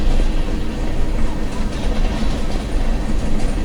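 A train rolls along in a video game heist, giving a loud, continuous rumbling clatter of wheels and cars close by with no clear voices over it.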